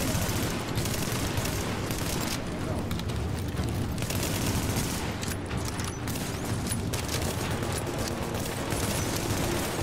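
Automated turrets trade dense, rapid bursts of gunfire in The Division's Hudson Refugee Camp, a loud, continuous fusillade with heavy low thuds filling the whole stretch.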